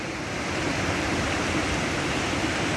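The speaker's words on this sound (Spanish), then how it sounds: "Está bastante cargado el cauce del río." The swollen Huáscato river in Pénjamo running high and fast after heavy flow, a loud, constant roaring wash of water with no voices.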